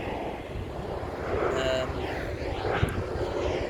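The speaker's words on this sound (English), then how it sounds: "Flyby plane" An airplane passes overhead outdoors, a steady engine drone that swells gently and holds over a windy, rumbly background, with one brief click near the end.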